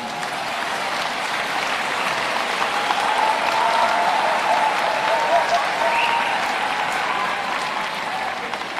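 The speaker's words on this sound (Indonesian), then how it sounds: "tepuk tangan untuk Tuhan kita." Congregation at an outdoor Catholic mass applauds, a broad, even wash of many hands clapping heard from a distance with a faint tone rising through it.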